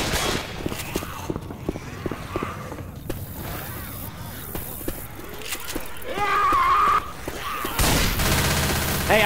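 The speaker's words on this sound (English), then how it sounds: "Taking the machine gun." Mounted machine gun fire in Left 4 Dead 2 on The Parish waterfront, rapid repeated shots crackling throughout, building into a denser, louder burst near the end, with game noise and a voice mixed in.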